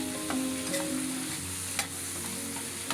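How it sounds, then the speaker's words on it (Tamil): Lengthwise-cut medium brinjal and onions sauté in hot oil, giving a steady close-up sizzle with occasional scrapes and clinks of stirring and a faint low hum beneath, with no voices. "அது இந்த வெங்காயத்தை கலந்து கூட சேர்த்து நல்லா வதக்கிக்கணும்."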